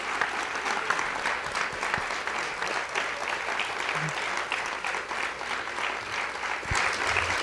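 A sustained burst of audience applause follows a talk on God and music, steady and dense clapping from a large crowd, carrying evenly through the whole stretch with no voices standing out.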